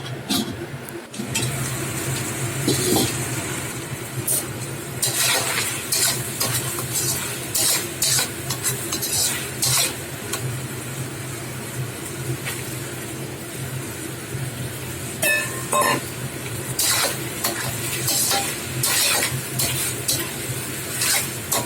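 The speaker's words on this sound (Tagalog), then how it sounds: "Haluin lang po din natin ng maigi. Kasi luto na po yung asparagus." Asparagus, chicken and fresh mushrooms stirred in a hot pan, a dense ongoing sizzle with frequent metallic spatula scrapes and clanks against the pan, close and busy throughout, no one speaking.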